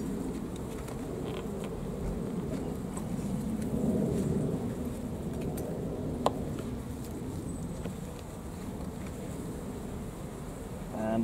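Honey bees buzzing around hive frames as a capped honey super is taken off, a dense continuous hum close by, with a few faint knocks and rustles.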